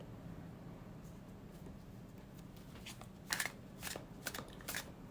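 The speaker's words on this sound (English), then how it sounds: "So again, let's shuffle it with intention." A tarot card deck is shuffled, starting as a soft, steady riffle under low room noise, then breaking into several sharper, crisp bursts of cards snapping together near the end.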